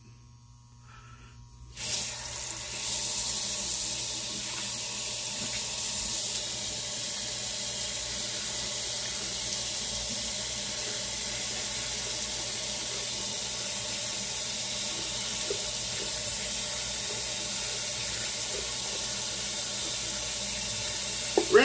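A head shaver being rinsed under running tap water, a steady loud hiss of water flowing into a sink that starts abruptly after a quiet moment and runs continuously.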